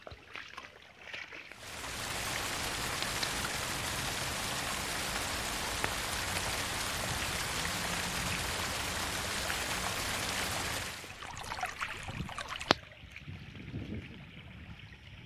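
Heavy, continuous rain pours down in a dense, even hiss that swells in abruptly, holds steady for about nine seconds, then thins out.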